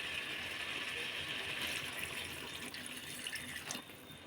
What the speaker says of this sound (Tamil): இனி கொஞ்சம் தண்ணி சேர்த்துக்கலாம்.